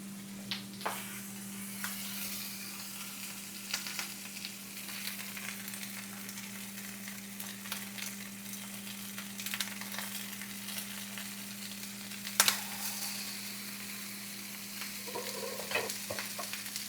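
Garlic frying in a pan while homemade salsa is being made, a steady low sizzle with scattered crackles and occasional stirring clicks, close and fairly quiet throughout.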